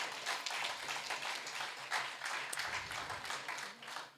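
An audience at the Leeward Islands debating competition applauds a director of education, a moderate, fairly distant spread of clapping with uneven taps and swells that continues for several seconds.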